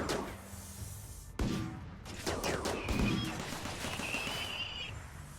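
Automated turrets in a desert survival game firing bursts of gunfire amid scattered impacts and sharp cracks, fairly faint and continuous over a busy background.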